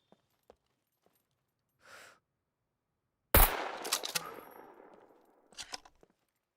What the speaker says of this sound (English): there's definitely someone else taking pop shots at me